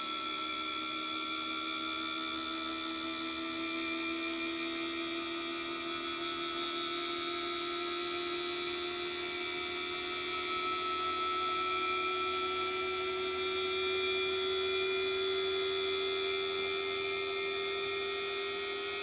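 A model 1831 locomotive's electric motor runs steadily near full speed, a continuous whine with rising tonal pitch and faint background hum, alone without voices.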